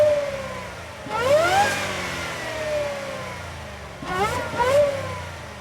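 Supercharged Ford F350 with a 7.3 V8 revs twice in quick bursts, the supercharger whine climbing sharply with each blip and then easing back to a steady hum, close and loud with no talking.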